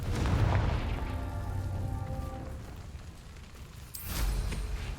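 A Confringo blasting spell explodes in the Hogwarts Legacy video game with a loud, rumbling boom at the start that slowly decays, followed by a second sharp, bright blast near the end.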